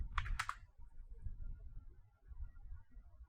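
A short burst of keystrokes on a computer keyboard, a couple of sharp clicks followed by faint low background, close and quiet with no talking.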